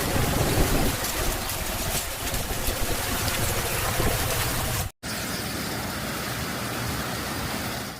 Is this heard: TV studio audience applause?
no